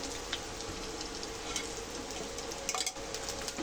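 Okra frying in a pan gives a steady, faint, even sizzle throughout, with a few light crackles and no voices.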